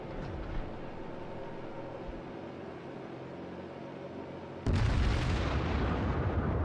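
Battleship guns of the Fuso firing a salvo in World of Warships, heard as a low continuous rumble that jumps into a sudden loud, booming blast near the end.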